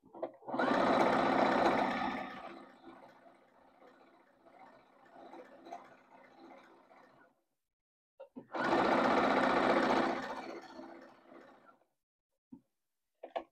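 Sewing machine stitching a seam on a quilt made from upcycled denim jeans: two loud sustained runs of rapid stitching, each trailing into a softer, slower whir, separated by a brief pause, with a few faint clicks at the end.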